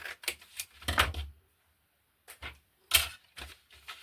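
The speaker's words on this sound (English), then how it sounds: "So we'll just cut off a tiny piece." Scissors snip a small piece off a junk journal page, a few crisp close cuts in two quick bursts separated by a short pause.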